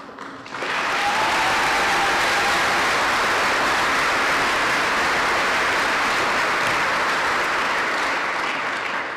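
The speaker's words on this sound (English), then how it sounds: "our applause shows you our feeling of thank you" A large crowd at a July 4th celebration applauds steadily and loudly, a dense wash of clapping that begins abruptly and holds for about nine seconds without a break.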